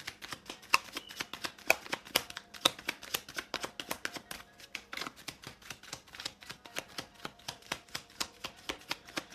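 Pure Love Oracle cards being shuffled by hand in a tarot reading, a close, quiet run of crisp riffling snaps and slaps in an uneven rhythm, alone without talk.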